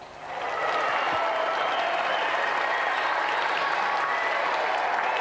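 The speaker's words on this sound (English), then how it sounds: "Round of applause for tonight's challenger." A studio audience at a British television game show breaks into loud, sustained applause that rises quickly and holds steady, a dense wash of clapping filling the room.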